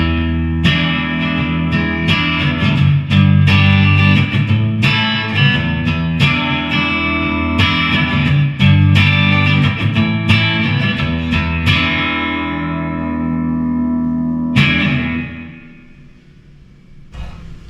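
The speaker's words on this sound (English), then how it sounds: "Now I'm splitting the neck pickup." Epiphone Alex Lifeson Les Paul Custom Axcess electric guitar played through an amp on a split neck pickup, strummed chords and single struck notes ringing out, ending on a long decaying chord.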